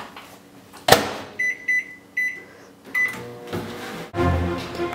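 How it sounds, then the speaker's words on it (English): A microwave oven in a competition cooking-show kitchen gives a run of short electronic beeps, a door thunk and a low hum, with clattering kitchen noise around it. "She needs to be going into the microwave."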